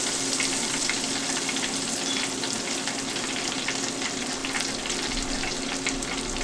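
Pork chops deep frying in hot oil, a steady crackling sizzle with dense popping bubbles, moderately loud and continuous, with no talk.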